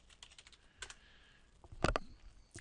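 Someone typing a search on a computer keyboard, a quiet scatter of light key clicks with a brief, louder cluster of taps near the end, heard alone.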